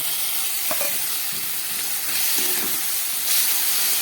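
Cashew and poppy seed paste going into a pan of frying prawns, potatoes, onion and tomato, a steady hissing sizzle with brief clinks and stirring scrapes, close and moderately loud, no talk.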